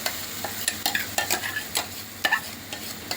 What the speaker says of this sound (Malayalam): അങ്ങനെ നമ്മുടെ കടുക് പൊട്ടി നമുക്കിനി ഇതിലേക്ക് അരപ്പൊഴിച്ച് കൊടുക്കാം